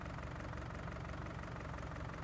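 A tractor engine idles in Farming Simulator 19, a steady, loud low rumble with a faint knocking pulse, continuous and unchanging with no talk over it.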